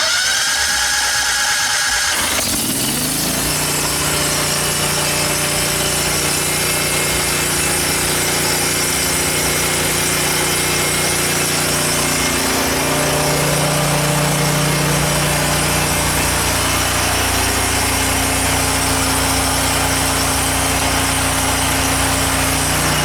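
A natural gas home standby generator engine starts after a short quiet moment and then runs in a loud, steady idle close by, with no voices.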